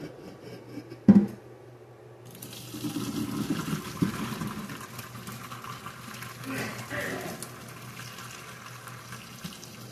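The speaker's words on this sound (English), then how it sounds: "I'm going to drain the water." Water gushes and splashes into a sink as cooked potatoes are drained, a steady pouring rush that goes on for several seconds, with a brief clunk at the start.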